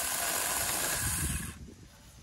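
Sawzall reciprocating saw cutting through a hanging tree branch, a loud, steady buzzing rasp that stops abruptly near the end, leaving quieter background.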